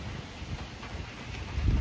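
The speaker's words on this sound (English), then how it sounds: "it's raining" Steady rain pouring outside during a summer storm, a continuous even hiss with a low rumble swelling near the end.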